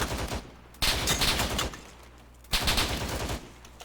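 Simulated gunfire in ArmA 3 with the 3CB sound mod, two loud bursts of rapid automatic fire separated by a short pause, with a rumbling tail after each burst.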